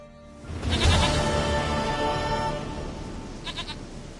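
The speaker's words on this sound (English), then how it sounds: "Goat of mine, dearest, sweetest goat." A goat in the video game The Witcher 3 gives a long, loud, wavering bleat close by, followed by a brief softer bleat near the end.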